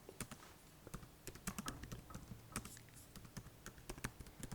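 Steady typing on a computer keyboard, a quick irregular patter of light clicks heard close and alone, fairly quiet throughout.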